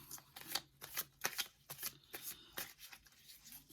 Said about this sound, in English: I just want to do a quick shuffle with this